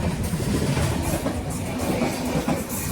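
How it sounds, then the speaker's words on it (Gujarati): A passenger train rolls into a station near a tunnel on the Porbandar to Thiruvananthapuram route, its wagons rumbling loudly with a steady clickety-clack of wheels over rail joints throughout. "હવે જો ટ્રેન આવી"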